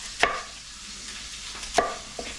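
A kitchen knife cutting the core out of an apple, heard as two crisp, close cuts about a second and a half apart with a fainter third tap, and no talking.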